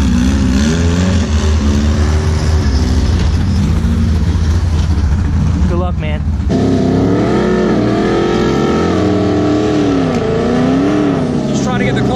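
A 1400hp Revworks-built Alpha 12 Nissan GTR on a 60 roll, its engine droning loud and steady throughout, pitch rising as it accelerates hard near the middle, with people talking over it.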